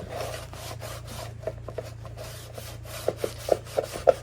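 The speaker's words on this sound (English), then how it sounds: "so now I'm just going to wipe all this back a little bit" A cloth wipes excess finish off black-painted wood in soft, close rubbing strokes, with a series of light taps and knocks toward the end.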